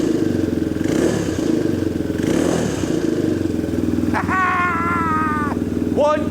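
A restored Honda XR motorcycle engine, just kick-started, idles with a steady, rapid chugging throb throughout, loud and close, while whistle-like tones rise briefly over it.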